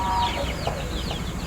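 Aseel chickens kept in Karnataka cluck in a brief run of soft, close calls against a busy farmyard background.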